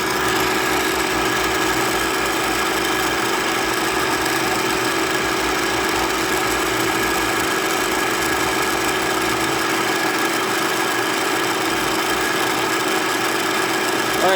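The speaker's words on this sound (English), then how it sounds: "I don't know exactly when I started the blender" A blender grinds pecans into pecan butter on battery power, a continuous loud motor whir with a steady hum running unbroken for the full stretch, no voices over it.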